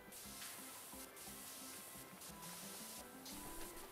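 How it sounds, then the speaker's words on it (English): A pressure washer in Powerwash Simulator sprays a turning carousel with a steady hissing jet, its tone pulsing rhythmically as the moving surfaces pass through the spray, with no talking. "I'm kind of spraying the front of them all as they come past."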